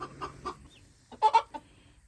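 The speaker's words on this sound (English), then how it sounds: "There's our hen with little chicks, and 1, 2, 3, 4 hens are sitting." A few soft hen clucks, then a louder cluster of two or three sharp clucks, close by against a quiet background.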